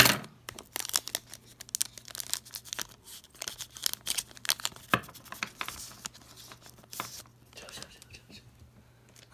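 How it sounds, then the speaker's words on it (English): Pokémon booster packs for Darkness Ablaze and the base Sword & Shield set are cut open with scissors, giving a rapid run of sharp snips, tearing and crinkling foil wrappers close up, with soft talking in between. "so I'm gonna use the scissors"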